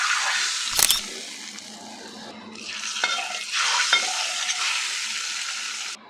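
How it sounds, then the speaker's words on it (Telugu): Hot tempering with curry leaves and a pinch of turmeric sizzles loudly as it is poured into raw sesame tamarind pulusu, a sharp burst near the start followed by sustained hissing that swells again midway and cuts off. "ఇప్పుడు ఈ పోపుని మనం చేసుకున్న పచ్చిపులుసులో వేసేసుకోవాలి"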